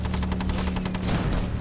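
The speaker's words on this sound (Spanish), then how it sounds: "Los intensos disparos alemanes son devastadores." Rapid, loud bursts of German automatic gunfire in World War II combat, a continuous rattling stream, dense and close with no pauses.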